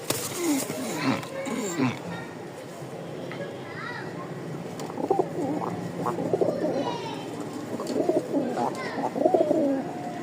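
Pigeons coo repeatedly in soft, low throaty phrases, a male near a female, mixed with other bird calls and someone talking nearby.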